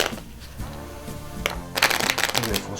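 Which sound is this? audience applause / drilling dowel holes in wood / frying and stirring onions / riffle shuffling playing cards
riffle shuffling playing cards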